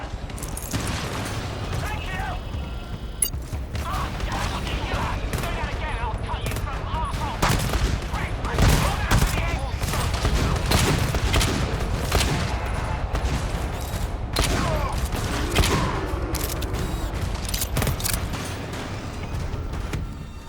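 Sentry turrets in the shooter game GTFO fire in a sustained loud barrage, dense rapid gunfire with heavy booms and mechanical clatter running the whole stretch, while players talk over it.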